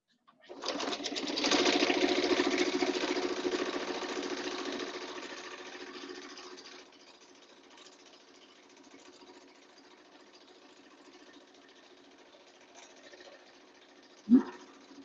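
A sewing machine stitches bias tape onto a cloth mask, a close mechanical whirring hum that runs steadily for several seconds, then fades to a quiet background before a single sharp knock.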